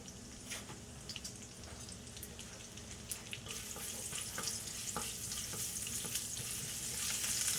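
Ginger fries in very hot bacon fat over high heat, giving off a steady, fairly quiet sizzle with scattered crackles and pops that grows slightly louder, and no one speaks.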